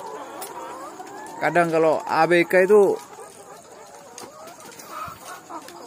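Laying hens cluck inside a chicken coop, a short run of loud rhythmic clucks that rises over someone talking nearby.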